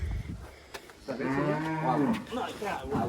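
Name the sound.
cow mooing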